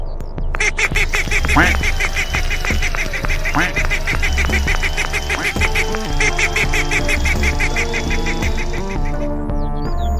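Loud, rapid quacking from a duck repeats throughout, dense and close, with other rustling and clattering noises underneath.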